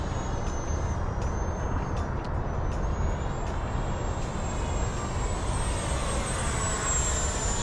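An FMS Rafale 80mm EDF model jet flies, its electric ducted fan giving a loud, sustained rushing roar with a high whine that slowly rises in pitch, heard alone throughout.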